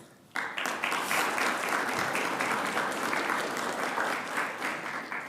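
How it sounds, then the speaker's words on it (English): Applause from the audience at a city council meeting during an honors presentation begins abruptly after a moment of quiet and continues as a steady, full round of many hands. "You can clap now or later, whichever."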